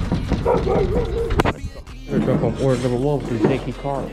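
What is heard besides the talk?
dog barking at a delivery doorstep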